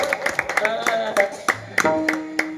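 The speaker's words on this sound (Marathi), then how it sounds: "जोरदार टाळी वाजवून" An audience at a kirtan claps loudly in scattered, uneven bursts, with someone talking throughout and a sustained musical drone beneath.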